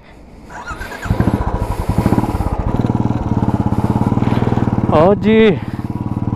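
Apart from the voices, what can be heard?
Royal Enfield Classic 350 motorcycle engine running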